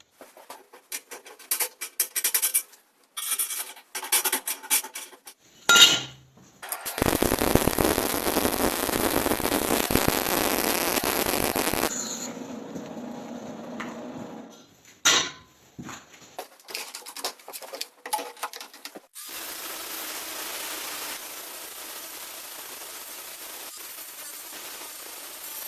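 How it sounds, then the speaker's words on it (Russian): An angle grinder fitted with a homemade abrasive disc grinds down a weld seam, starting with a loud sustained rasping burst, then dropping to brief bursts and a steadier lighter hiss of abrasion, with no talk. "включаем болгарку"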